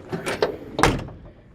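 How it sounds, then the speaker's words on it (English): Door of a 1966 Chevy C-10 Stepside pickup truck swinging open and then shutting with a solid thunk, two close, distinct movements. "Doors open and close nicely."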